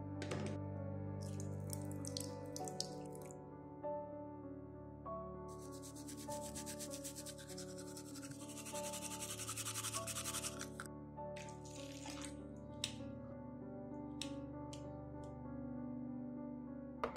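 A bathroom tap runs while someone brushes their teeth at home, a soft, steady water rush lasting several seconds under a sustained musical score, faint and at a distance, with no voices.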